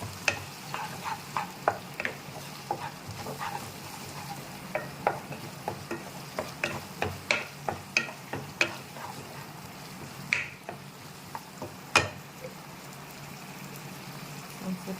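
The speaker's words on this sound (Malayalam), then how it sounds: "എന്നിട്ട് ഇത് ഒന്ന് വഴച്ചെടുക്കും" Food with green chilli sauce is sautéed in a pan: a steady run of sharp spatula scrapes and clicks over a soft frying sizzle, close and moderately loud, with no talking.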